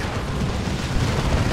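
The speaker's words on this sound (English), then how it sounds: "off-map artillery" Off-map artillery strike in Warhammer 40,000: Dawn of War 2, a brief, steady roar of explosive rumble filling the moment without pause.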